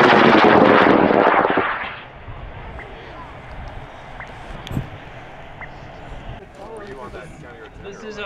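Launch of a K-motor high power sport rocket from pad 3 at a national rocketry event in Alamosa: a loud roaring burst for about two seconds that cuts off abruptly, leaving distant outdoor ambience and faint voices.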